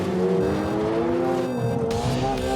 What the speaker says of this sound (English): Time for a fast lap.